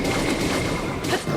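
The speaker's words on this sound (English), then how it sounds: "that's the other attack I was talking about that does the ranged like explosion type thing" Ranged explosion attack from a Lynel in Zelda: Breath of the Wild, a dense burst of booming, crackling blasts filling the whole moment, loud and continuous with a brief swell near the end.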